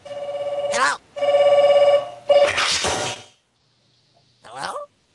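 A telephone rings in a video game set in a haunted house, three loud repeated bell-like trills, followed by a brief voice.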